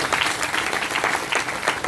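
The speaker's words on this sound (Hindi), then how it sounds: "जोरदार तालियां हो सकती है" Steady applause from a crowd at a business plan presentation, many hands clapping in a dense, even patter, fairly loud and without any talking.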